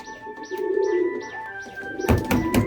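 Several Giribaz pigeons cooing in soft repeated rolling calls close by, joined near the end by louder fluttering and scuffling.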